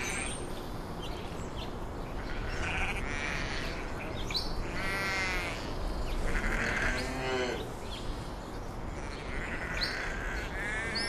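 Goats bleating on open summer grassland in the Asian steppe, a few wavering calls rising over a steady outdoor wash of wind and ambience, fairly close and moderately loud.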